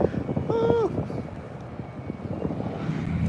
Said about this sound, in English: There's the engine sound right when he gets across the street. It's a loud light truck.